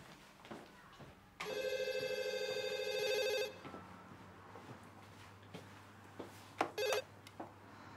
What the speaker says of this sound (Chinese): 你先去坐会儿，我去接个电话。